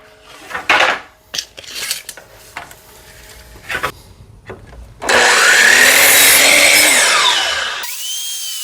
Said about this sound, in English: Now we're going to cut that 1x3 to 60 inches.